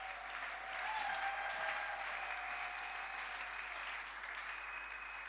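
A church congregation at a Sunday service claps together in sustained applause, a dense, even roar of many hands filling the hall and holding steady for several seconds before easing slightly.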